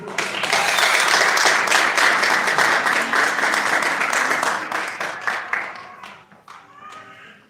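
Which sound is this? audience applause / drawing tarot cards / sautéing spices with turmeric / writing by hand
audience applause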